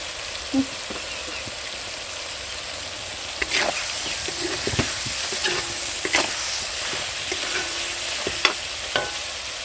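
Ginger-garlic paste and chili powder frying in hot oil in a pan, heard up close as a continuous sizzle broken by scattered clicks and scrapes of stirring.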